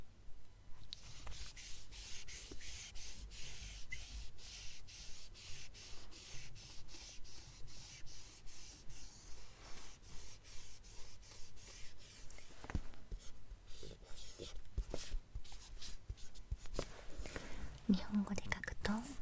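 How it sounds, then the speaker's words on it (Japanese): Japanese characters handwritten up close with a pen, giving a steady run of soft, scratchy strokes and brief pauses, with faint whispering in places. "じゃあ日本語で書いてみましょう"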